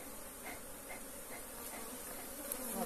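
Honey bees drone steadily around an opened beehive during an inspection for honey, a dense, continuous buzz with soft pulsing swells, close and alone without talk.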